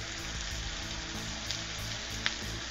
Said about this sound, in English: now I'm going to squeeze in the lime juice of 1 lime